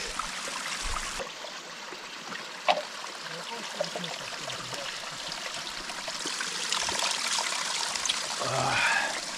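Clear water from a mountain spring trickles and splashes steadily while a container is filled outdoors, a continuous close babbling flow with small clinks.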